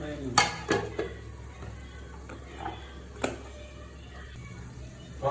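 Vegetables cooking in a pan with ghee and spice paste, a spoon knocking and scraping against the metal in a few distinct strikes over a soft sizzle, fairly close.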